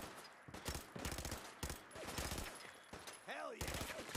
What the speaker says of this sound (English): I want to test out my gun now.